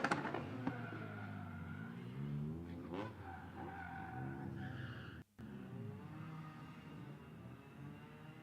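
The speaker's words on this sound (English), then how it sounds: "Predrag Belic from Croatia, sorry, with very nice Ford Fiesta" A Ford Fiesta ST rally car skidding through an autoslalom run at the European Autoslalom Championship, engine droning steadily while tires squeal and scrub throughout, with a brief cut near the middle.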